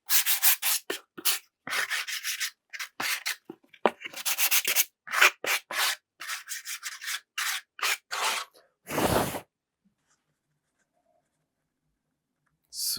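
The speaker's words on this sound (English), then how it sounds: "Sand it. Just want to take out extra material." Hand sanding of a leather box to remove excess material, a run of rapid rasping strokes in quick bursts, close and loud, then a short pause, one longer stroke and silence.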